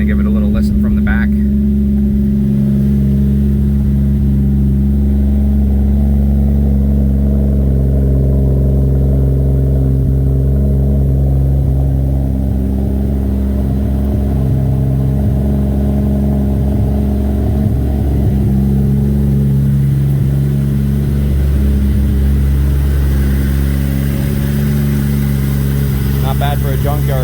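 A 1995 Toyota Supra MK4 with a junkyard engine idles loudly and smoothly, heard from behind the car, a steady deep hum with slight swells and brief touches of handling noise near the start and end.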